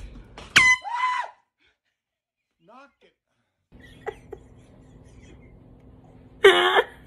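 A loud air horn blares in an office prank, once briefly near the start and again in a long, harsh blast at the end, with a startled vocal outburst after the first blast and quiet room noise between.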